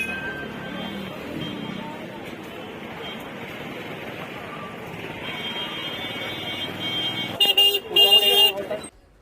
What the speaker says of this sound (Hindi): यहाँ पर ट्रैफिक बहुत ज़्यादा है।